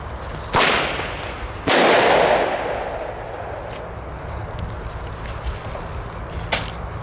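A small firework goes off outdoors with two sharp, loud bangs about a second apart, each trailing into crackling noise, followed later by a fainter pop; no talking.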